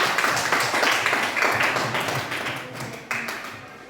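A classroom of students claps together, a dense, fairly loud patter of many hands that runs steadily, then thins toward the end.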